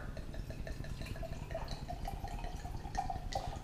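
Griffin Meadery Limelight mead, a lime-flavored mead, is poured from a bottle into a glass, with a soft, continuous trickle and gurgle close by.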